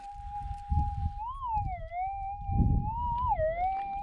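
A Minelab GPX 6000 metal detector gives a steady threshold hum that swells and wavers as a target passes, twice, over faint background thumps from sweeping.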